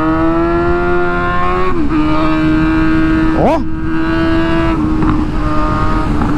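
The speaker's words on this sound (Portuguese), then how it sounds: "O ronco dessa moto tá instigante" A Suzuki GSX-S motorcycle engine roars loud and close, holding a steady drone that dips and rises sharply as the throttle blips, with a brief single spoken word over it.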